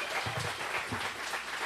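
A live studio crowd applauds at a debate watch party, a brief wash of clapping heard fairly close and steady, with a faint voice underneath.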